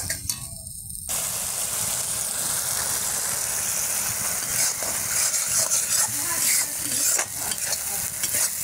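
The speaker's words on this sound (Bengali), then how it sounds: "মশলাগুলো ভালো করে কষিয়ে নিচ্ছি" Spices fried in oil and stirred in a pan over a wood-fired stove, a steady loud sizzle with repeated scraping stir strokes throughout, starting abruptly after a quiet first second.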